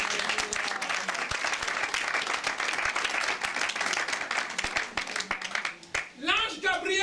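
A church congregation claps and cheers for Jesus in sustained dense applause that fades near the end as a preacher's voice comes in.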